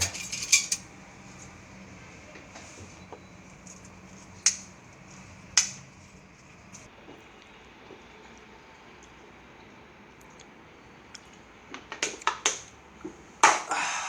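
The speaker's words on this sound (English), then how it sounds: "And now we are going to mix it all together." Pico de gallo salsa mixed in a bowl, scattered metallic clinks and taps of a utensil against the bowl, bunched at the start and in a rapid cluster near the end, close and quiet between strikes, no talking.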